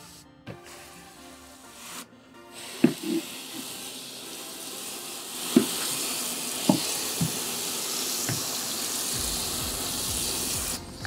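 Water poured over dry clay and soil inside a natural formicarium, a soft steady sizzling trickle and hiss running for several seconds, broken by small drips and taps, with no talking.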